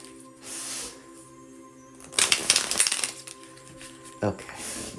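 Tarot cards are shuffled by hand in a couple of riffling bursts, with a brief pause between them, set against a quiet room with a faint background hum and some light tapping.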